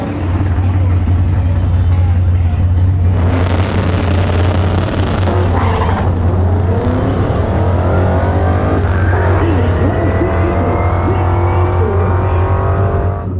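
A Porsche Taycan Turbo S and a Tesla Plaid drag race, accelerating hard from a standstill with a rising high-pitched electric whine and road roar, loud and close, with people talking over it.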